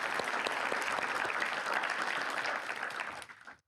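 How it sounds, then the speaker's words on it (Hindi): An audience at an exam-preparation discussion event breaks into sustained, lively clapping, close and full for several seconds before quickly dying away, with no voices over it. "उसके लिए भी तालियां।"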